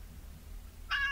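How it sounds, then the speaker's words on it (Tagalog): A cat lets out a single clear meow that begins abruptly near the end, bright and fairly close, rising over a steady low hum after a quiet stretch with no talking. "Adda nagmiyaw"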